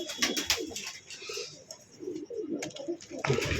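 Karna pigeons cooing close by in a loft, several soft throaty coos and a few wing flutters over about four seconds, without people talking.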